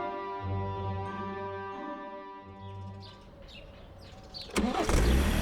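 A car engine cranks and catches near the end, rising into a loud running rumble after a stretch of steady tonal hum and background sound, after a do-it-yourself engine repair.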